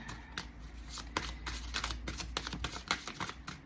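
Tarot cards shuffled by hand in a quick, riffling flurry of close, crisp paper slaps and flutters, continuous for a few seconds with no voice.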